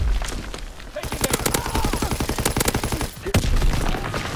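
An MG42 machine gun fires in Call of Duty: WWII on a winter Carentan map, a loud, rapid, sustained burst of automatic fire that breaks off briefly before more shots crack close by.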